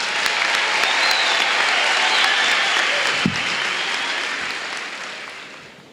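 Audience applause for volunteers at a school recognition night, a full, loud burst of many hands clapping that holds steady, then gradually fades toward the end.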